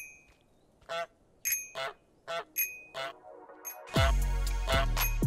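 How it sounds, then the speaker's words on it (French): Cartoonish goose honks in Untitled Goose Game, a series of six short, close honks spaced about half a second apart, followed by a louder burst of game sound at the end. "Appuyez sur X pour cacarder"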